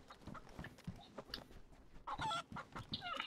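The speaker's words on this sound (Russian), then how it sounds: "Курица." Chicken clucking in the survival video game DayZ, a series of short clucks and squawks, moderately close and fairly quiet, with brief louder bursts toward the end.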